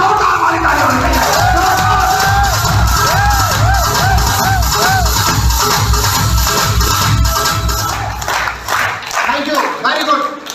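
Loud crowd clapping and cheering with whoops and yells at a speech event in Delhi, steady for several seconds before thinning out near the end.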